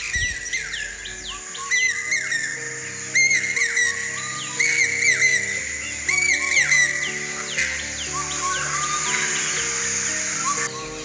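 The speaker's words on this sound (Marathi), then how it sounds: "शांत सुंदर वातावरण आणि त्यात पक्ष्यांचा मस्त किलबिलाट" Several birds chirp and whistle in bright repeated bursts over soft background tones, lively and close, in the rainy-season Konkan countryside.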